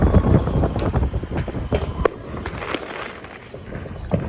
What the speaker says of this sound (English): Oh my god, the fireworks.